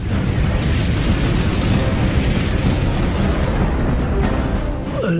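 Dense, continuous rumble of Russian artillery fire and explosions at the Battle of Kursk, loud and sustained throughout with overlapping booms and no clear gaps.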